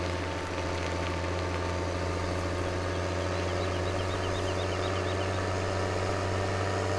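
A tractor engine labouring under a heavy pull in the Farming Simulator 17 video game, probably a 400-horsepower New Holland T8 or Case Magnum, with a steady low drone and mechanical knock that holds constant throughout, with no talk.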